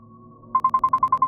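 Phone ringtone in a mystery video game: a faint steady tone, then a loud, quick series of about eight identical electronic beeps in a regular rhythm, with no voices.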